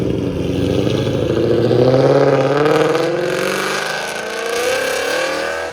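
Modified 2017 Ford Mustang GT with a 5.0L V8, headers and a Borla ATAK exhaust revving loudly and close, a deep sustained roar that climbs in pitch around the middle and then eases off while holding steady to the end.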